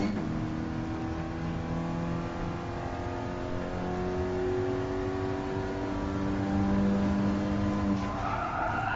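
Renault Mégane RS race cars in the Gran Turismo Sport racing game, tires squealing in a long sustained skid over a constant engine drone, loud and continuous.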